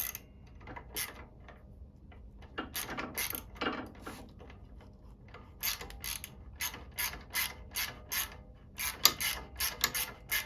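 Ratcheting clicks from a wrench tightening a bolt on a custom exhaust of a 2022 CFmoto 650 Adventura motorcycle, bursts of quick metallic clicks that grow more regular and rapid toward the end, close up with no talking.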